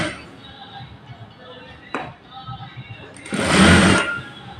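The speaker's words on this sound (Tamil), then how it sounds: "1/4 இன்ச்சில் தைக்கணும்." Sewing machine running in a short, loud burst near the end as it stitches a quarter-inch blouse seam, following quieter handling taps and a sharp knock.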